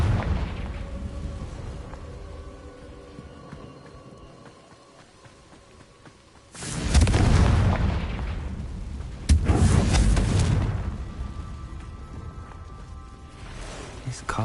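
Two heavy Confringo spell explosions burst out in a Harry Potter video game, each a loud roaring blast that slowly decays, after a quieter stretch of background game sound with some voice.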